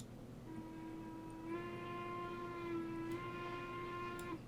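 A steam locomotive whistle in the Railroads Online game blows one sustained, steady chime tone lasting a few seconds over low rumbling background noise, clear but moderately quiet.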